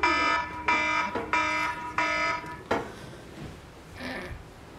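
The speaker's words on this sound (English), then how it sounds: "So glad I set my alarm so I won't be late for school." An alarm clock rings in loud repeated bursts, four evenly spaced harsh buzzing tones followed by a clatter and quieter fading sounds.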